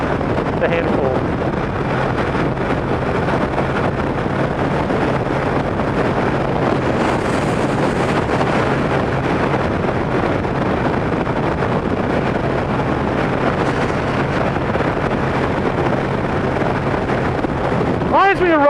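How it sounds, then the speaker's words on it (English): Heavy, continuous wind roar buffets the microphone while riding a Kawasaki ZX-12R motorcycle on the road, loud and steady throughout with a low engine drone underneath. "even in this kind of wind, it's a handful."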